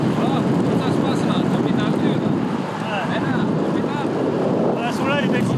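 Strong wind gusts buffet the microphone at an outdoor Sunday charity cycling race near Papenoo and Hitia, a constant loud rumbling roar with faint higher whistles and tones woven through it.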